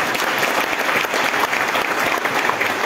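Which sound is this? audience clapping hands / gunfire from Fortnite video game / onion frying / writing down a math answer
audience clapping hands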